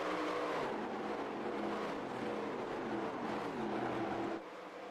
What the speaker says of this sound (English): Cars down the back straightaway once again, car on the outside wall behind them.